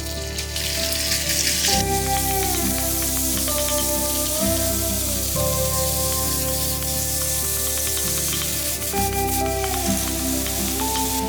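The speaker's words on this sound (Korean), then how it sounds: "프라이팬을 중불로 예열한 뒤 기름 한 스푼에 닭고기를 볶아줍니다." Minced chicken crackles and sizzles as it stir-fries in a pan, a loud continuous spatter with background music playing underneath.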